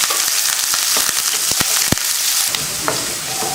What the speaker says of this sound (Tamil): ஜீரகம் பொரிஞ்சதும் கருவேப்பிலை, வெங்காயம், அடுத்து பச்சை மிளகாய் 3யும் மாற்றி.